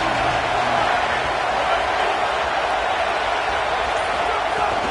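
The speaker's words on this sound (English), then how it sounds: "Here comes the noise from this big crowd in Happy Valley on third down." In a college football video game, a big stadium crowd in Happy Valley roars on third down during Penn State vs Wisconsin, a constant, dense wall of noise that never lets up.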